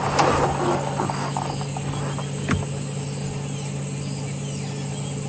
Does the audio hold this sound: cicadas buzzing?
yes